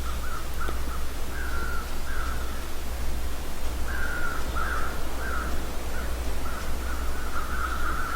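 Crows caw repeatedly in the snowy wilderness of The Long Dark, in short harsh bursts that recur at intervals over a steady low ambient rumble, fairly distant and alone with no voices.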